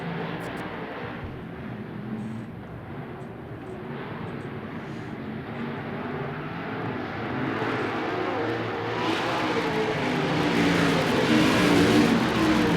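USAC/CRA sprint cars racing at Phoenix, Arizona just after the green flag, a loud blended engine roar that builds steadily as the pack accelerates, heard from a distance with no talking.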